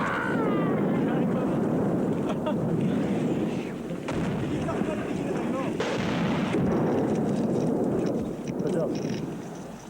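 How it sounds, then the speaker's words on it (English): Sustained enemy artillery fire in the hills of Afghanistan, a continuous heavy roar and rumble with repeated booms blending together, loud throughout and nearby. "the enemy's artillery fire was sustained and occasionally uncomfortably accurate"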